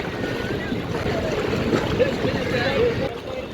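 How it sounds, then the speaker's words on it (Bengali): Sea waves wash and churn steadily around people wading into the cold surf at Puri beach, a continuous rushing roar with wind noise and voices talking over it. "ঢেউ কাটিয়ে যাচ্ছি আমরা"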